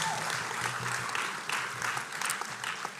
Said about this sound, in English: I want to hear a loud, thundering round of applause